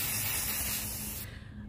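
An aerosol can spray-paints small Dollar Tree DIY craft pieces, a steady close hiss lasting under two seconds that thins out near the end.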